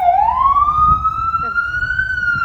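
An ambulance siren wails loudly in a long, slowly rising tone as it passes close by on a road, with faint traffic beneath.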